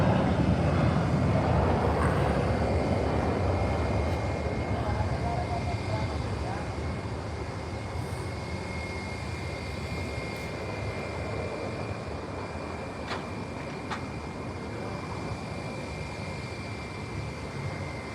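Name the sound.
JetBlue Airbus A320 landing at SJU airport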